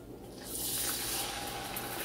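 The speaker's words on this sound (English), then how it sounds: "Take it off the stove and add your heavy cream, but watch out, it might pop." Heavy cream poured into hot caramel just off the stove, a soft steady hissing rush that swells after a brief quiet start and holds at a moderate, close level.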